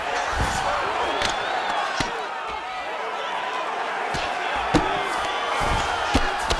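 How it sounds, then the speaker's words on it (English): Arena crowd in a UFC 5 MMA fight cheering and roaring continuously, with sharp thuds of strikes punctuating the din and a commentator's voice over it. "crowd just loving it"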